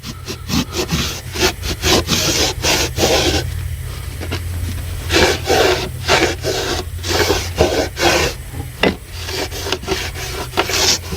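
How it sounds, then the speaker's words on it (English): Paste wax is rubbed by hand onto wooden drawer runners, a loud rhythmic rasping of strokes back and forth with brief pauses between passes. "you want to paste wax each one of the runners"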